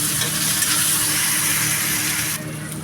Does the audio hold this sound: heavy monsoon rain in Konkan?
no